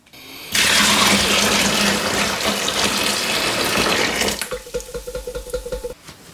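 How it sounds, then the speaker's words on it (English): Just-boiled water, about three kilos, pours in a loud continuous rush into a home-brew container for Coopers lager, then stops and gives way to a few gurgling, sloshing pulses. "I now have about 3 kilos of just boiled water, which is going in."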